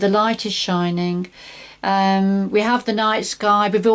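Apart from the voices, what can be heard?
No everyday noise stands out behind the speech.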